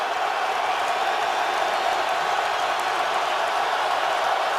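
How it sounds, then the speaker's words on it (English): A dense crowd roars continuously at a 2011 Falcons–Lions football game in the stadium, a broad, steady wash of noise holding at even loudness without breaks. "Now the crowd gets loud."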